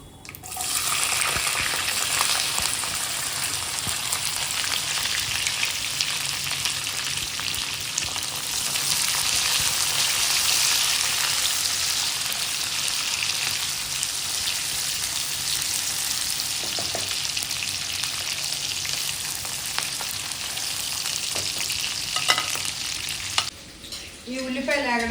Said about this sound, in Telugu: ఇప్పుడు ఇవి ఏగుతూ ఉన్నాయి కదా